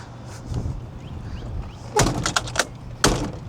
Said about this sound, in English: Let me shut this door over here.